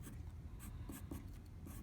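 Pen scratching steadily across paper while a chemical structure for an organic chemistry exam problem is drawn, a continuous soft scribbling with brief louder strokes and no talk.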